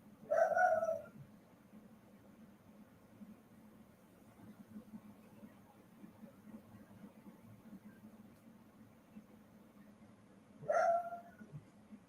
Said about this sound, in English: My dog's name is Aries.